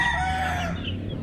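A young Boston gamefowl rooster crows once, close and loud, the call trailing off within about a second.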